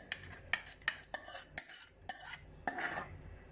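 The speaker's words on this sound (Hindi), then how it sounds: "अब इसको अच्छे से हल्के हाथों से मिक्स करना है, ताकि ये फलियाँ जो हैं ये टूटे नहीं" A spoon gently folds spiced yogurt into dahi bhalla dumplings in a bowl, making repeated soft clinks and wet scrapes, close and without talk.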